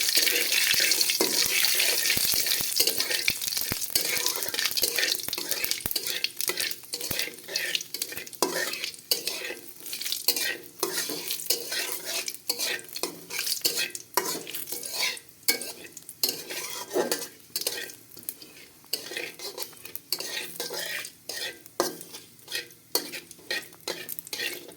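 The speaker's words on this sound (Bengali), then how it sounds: "এবার ভালো করে ভেজে নেব রাঁধুনি আর জিরে" Radhuni and cumin seeds fry in hot oil in a pan, a continuous close sizzle broken by frequent scraping stirs and clinks of the spatula for the whole stretch, no talk.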